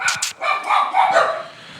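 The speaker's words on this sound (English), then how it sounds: "Buck, Freya, stop. No barking." Two dogs, Buck and Freya, bark in a few quick, loud yips close by indoors, then their barking gives way to a brief lull.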